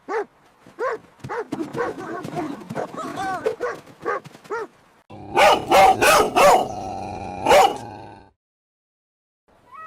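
A dog barks in a cartoon pet story, a burst of loud, close, rhythmic barks following a stretch of a narrator's voice, then falling silent.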